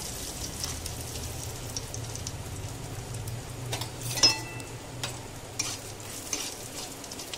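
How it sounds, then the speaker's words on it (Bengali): Whole cumin and dried chillies frying in oil in a kadai, a continuous close crackling sizzle with scattered small pops and one sharper spit midway, no voices. "তারপরে দেবো গোটা জিরে, তারপরে দেবো শুকনো লঙ্কা"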